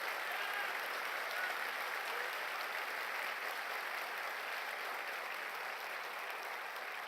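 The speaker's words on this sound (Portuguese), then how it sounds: "Você pode dar uma salva de palmas ao Senhor pela tua vida?" Congregation at a church service applauding in praise, a dense, steady wash of many hands clapping that holds evenly for the whole stretch without any talk.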